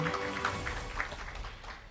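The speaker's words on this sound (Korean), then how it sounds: "여러분 큰 박수 부탁드립니다" Clapping fills the hall at a Korean library awards ceremony as a prize is presented. The applause is steady, moderately faint and evenly sustained, without speech over it.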